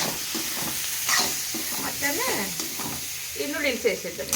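Vegetables sizzle in a hot pan for Maggi noodles with an egg, a steady close frying hiss broken by a spoon stirring and scraping against the pan, with no talking.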